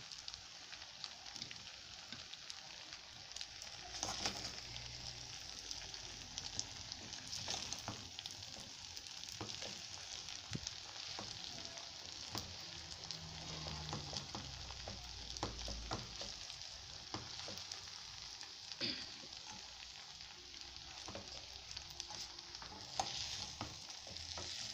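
Onions fry in a pan with a steady, faint sizzle and occasional stirring clicks, continuous and unbroken throughout with no voices over it.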